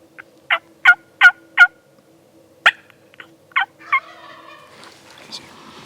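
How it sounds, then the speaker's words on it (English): A wild Merriam's turkey gobbles in the mountains during a public-land spring hunt: four loud, close gobbles in quick succession, then a single later call and a few softer clucks over a faint steady hum. "Don't want to just keep forcing a gobble out of him, you know?"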